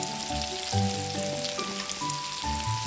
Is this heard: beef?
yes